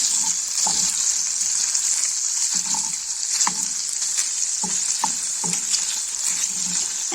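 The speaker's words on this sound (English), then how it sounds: "the bacon is cooking. Give that a stir." Bacon fries in a pot with a constant bright sizzle, while repeated soft scraping knocks from stirring land at irregular intervals, close up with no talk.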